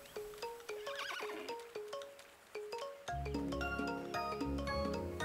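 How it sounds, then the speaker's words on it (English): A horse in the farming video game Roots of Pacha whinnies over rhythmic clip-clopping hooves, then a bright melodic game tune takes over, all clear and close with no talking. "So it was this horse, because we haven't seen a horse like this"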